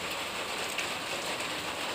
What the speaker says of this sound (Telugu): ఇది మా ఊళ్ళో వర్షం పడుతుంది